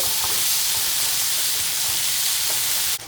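Tomatoes fry in a pan for a Kongu-style potato kulambu, giving a constant, loud hissing sizzle up close that runs evenly throughout and cuts off abruptly at the end.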